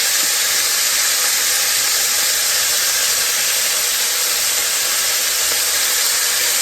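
Thin-sliced beef steak searing in a very hot pan over high heat for beef stroganoff, a loud, steady sizzling hiss with crackling pops throughout, no voices.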